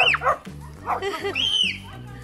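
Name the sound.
dogs barking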